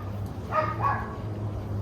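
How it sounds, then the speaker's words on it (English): A little puppy from next door barks a few times in quick succession, small and fairly distant, over a steady low hum with no talking. "our neighbor dog. He's a little puppy. He likes to bark sometimes."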